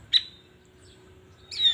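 A green leafbird (cucak ijo) in a state of excessive breeding condition gives two sharp, high chirps more than a second apart, close and clear with quiet between.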